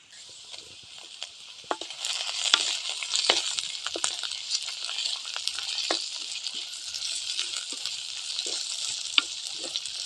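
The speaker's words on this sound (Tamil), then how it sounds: "ரெண்டு தக்காளி பொடி பொடியாக அறுத்து போட்டு வணக்கலாம்." Finely chopped tomatoes sautéing in a pan, a bright steady sizzle with frequent light taps and scrapes of stirring.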